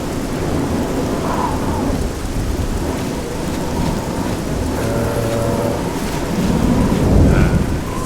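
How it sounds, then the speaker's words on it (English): Steady heavy rain and rolling thunder from a thunderstorm in the video game Oblivion, a dense continuous wash of falling water with low rumbles swelling now and then, fairly loud and with no voices. "I don't like this rain."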